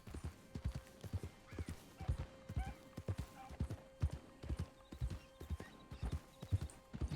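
Horse hooves clip-clop at a steady walking rhythm in the video game RedM, a western roleplay set in the Red Dead world, with a faint whinny partway through, fairly close and quiet.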